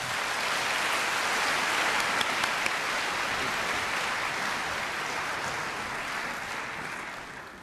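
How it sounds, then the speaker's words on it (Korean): A large conference audience applauds to welcome a speaker to the stage, a dense, steady wash of clapping that fills the hall and holds for several seconds before slowly easing off. "우리 닥터 콜만 박사님 나오실 때 크게 박수로 환영해 주시면 감사하겠습니다."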